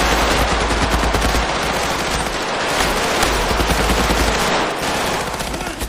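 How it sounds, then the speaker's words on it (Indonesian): Rapid machine-gun bursts from a film shootout crackle loudly and almost without pause, dense overlapping fire filling the whole scene. "Mick dan Meg yang memberondong si klien hingga tewas"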